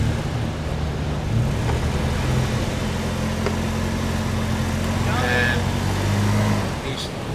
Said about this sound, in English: he is moving forward and getting his vehicle up off the sand